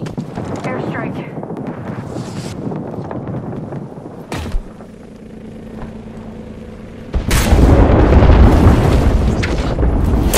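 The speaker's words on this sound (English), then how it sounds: "Airstrike." Airstrike explosions in a video game: a sharp blast cuts through, a quieter humming stretch follows, then a heavy explosion roars and rumbles loudly for several seconds.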